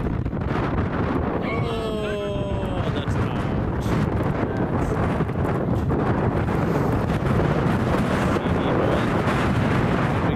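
Strong wind gusts buffet the microphone at an outdoor cricket match, a loud, steady, rumbling roar that fills the whole stretch with no break.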